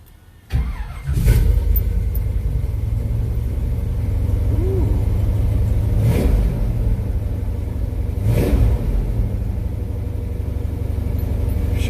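A car engine that had been sitting unused, newly fitted with ceramic spark plug wires, cranks and catches, then settles into a steady, close rumbling idle with a couple of brief revs along the way.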